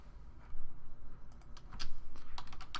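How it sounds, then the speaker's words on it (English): Rapid typing on a computer keyboard while writing JavaScript code, a steady close patter of key clicks over a low background hum, with no talking. "I'm just typing here on an angle, so that's why I'm adding in all these extra characters that I was hitting."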